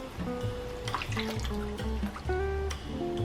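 Starch water poured into a pan of simmering lotus root pork meatball soup, a close liquid trickle and splash over a steady kitchen hum, with music tones running underneath.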